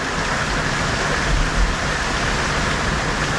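Heavy rain pours down as a loud, dense, unbroken roar with a low rumble underneath and no voices.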